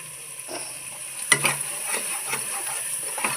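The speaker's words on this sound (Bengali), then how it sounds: "আমার মশলা কষানো হয়ে গেছে" Spice paste for prawn malai curry, with salt and sugar added, frying in oil that has separated, a close steady sizzle broken by a few sharp spatula scrapes and taps, no talk.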